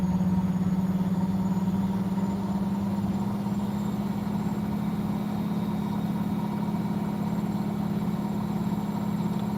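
A street-found Bush washing machine's spin cycle ramps up to higher RPM as a loud, steady motor drone that holds throughout with no voices.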